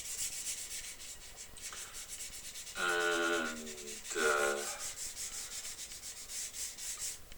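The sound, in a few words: sanding wood carving knife handle with 600 grit sandpaper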